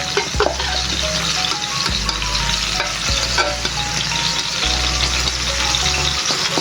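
Coarse, textured sambal fries in plenty of oil in a pan, giving a steady, loud sizzle throughout. Deep scraping strokes of a utensil stirring it recur every second or two.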